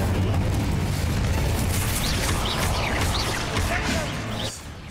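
An Incendio fire spell cast in Hogwarts Legacy, a dense roaring whoosh of flame with rumbling booms, loud and sustained for several seconds before cutting off, with a voice talking over it.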